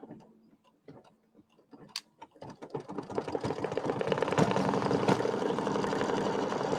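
A few scattered clicks and taps lead into a sewing machine starting up and running steadily, its needle ticking rapidly and evenly at close range while it stitches a placement line in black thread.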